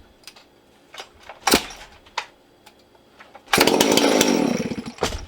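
A ported Farmertec MS660 chainsaw with an ignition problem is being started. Several separate starter-cord pulls rattle and clack, then the engine catches loudly for about two seconds, sputtering roughly before fading.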